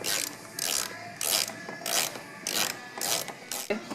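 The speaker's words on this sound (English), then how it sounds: "And a 10 millimeter, we'll just go ahead and tighten that up" Ratchet wrench tightening a 10 mm bolt while fitting a dCarbon Fusion styling kit to a car: about seven loud, close bursts of rapid clicking, each roughly half a second long, separated by brief pauses.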